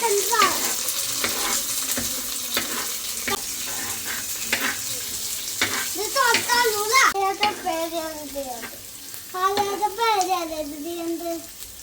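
Onions and tomatoes fry and get stirred in a pan for tuna fish curry, giving a steady close sizzle with occasional scraping, while voices chatter over it in the second half.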